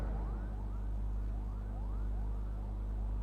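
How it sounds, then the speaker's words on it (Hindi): An emergency siren wails outdoors in Karachi, its rising sweeps repeating every half second or so over a heavy low rumble, loud and continuous with no speech. "ये सायरन किसके लिए बज रहे हैं?"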